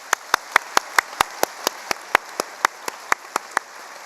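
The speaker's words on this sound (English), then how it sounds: "Let's go ahead and give her a round of applause." A school audience at a Memorial Day assembly claps in a steady rhythm, about twenty crisp, evenly spaced claps that stay at a moderate level throughout, with no talking over them.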